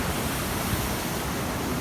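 Stormy sea water surging in under a boardwalk during wet weather in Western Australia, a dense continuous roar of waves and wash with gusty noise and no break.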